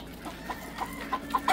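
Hens on a poultry farm cluck in short, separate bursts that grow a little louder toward the end, heard close against a low background murmur with no talk.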